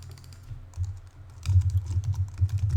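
Typing on a computer keyboard: a near, quick run of clicking keystrokes that picks up pace and density after a short pause, with no speech.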